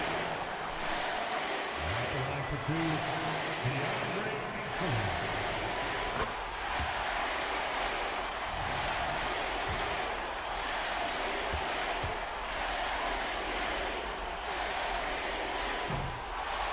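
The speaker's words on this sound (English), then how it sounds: "he will go to the line and just listen to the crowd embrace their center" An NBA 2K24 basketball arena crowd roars and cheers at a free throw, a continuous dense wash of noise with scattered bumps and shouts throughout, and a voice briefly audible early on.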